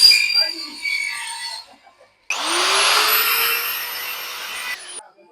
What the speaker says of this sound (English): and then with the milling machine